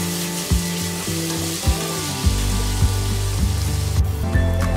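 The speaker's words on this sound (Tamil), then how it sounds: "இப்போ நறுக்கி எடுத்து வச்சுருக்க வெங்காயத்தை சேர்த்துடலாம் வெங்காயம் இந்தளவு வதங்கினதுக்கப்புறமா தக்காளி சேர்த்துட்டு அதையும் ஒரு ரெண்டுலேருந்து மூணு நிமிஷத்துக்கு வதக்கிக்கலாம்" Onions and tomatoes sautéing in a pan for a North Indian chapati side dish, a steady close sizzle with a few soft stirring knocks and a brief metallic clink near the end.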